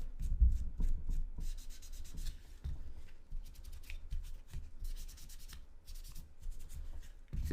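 Hands or a cloth rubbing the outside of a Sig Sauer P365 pistol during cleaning, giving soft scratchy strokes in irregular bursts, close and fairly quiet with no voices.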